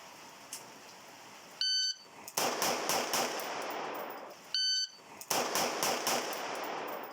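A shot timer gives two sharp tonal beeps, each followed by a fast string of close, loud pistol shots fired at an A-zone target on a shooting range, with quick even splits between shots and no talking.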